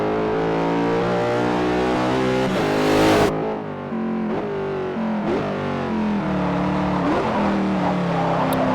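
A turbocharged Range Rover in Forza Motorsport 4 revs hard and loud, climbing through gears with a sharp cut near the middle, then repeated surging pulls with a distorted, buzzy engine tone, no voices.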